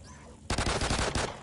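Shotgun fire in the video game Call of Duty: Ghosts, a rapid burst of five or six loud, sharp blasts in quick succession after a brief quiet moment.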